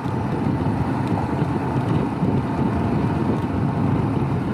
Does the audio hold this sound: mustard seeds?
no